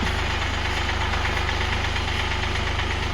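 A heavy engine chugs close by with a steady, low, throbbing rhythm, like a tractor crawling along in a low gear, alone and unchanging throughout.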